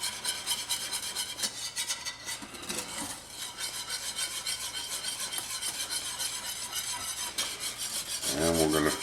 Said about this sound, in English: we're going to get our whisk, make sure it gets all incorporated